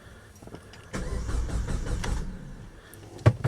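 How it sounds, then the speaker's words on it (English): A Dodge Caliber SRT4 engine cranks over in flood mode, a close, short run of starter churning that swells after a quiet moment and ends with a sharp clunk. "So I'm gonna do flood mode first for 2 or 3 cranks, and then I'm gonna give it a shot."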